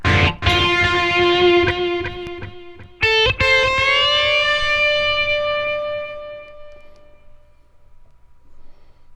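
An electric guitar played through a Positive Grid Spark amp with hall reverb rings out as sustained chords, a second chord struck midway, each decaying slowly into a lingering reverberant tail.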